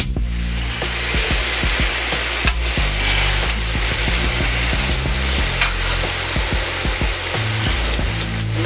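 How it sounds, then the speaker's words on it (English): Ground beef for tacos sizzles steadily in a hot pan, a dense close crackle with scattered scraping knocks as it is stirred, continuing without pause throughout. "Stir up my beef here."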